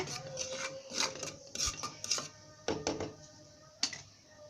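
A spoon scraping and clinking inside a pressure cooker while turmeric, pepper and salt are stirred into melted ghee on a low flame, a series of short metallic rubs and taps at close range with no talking.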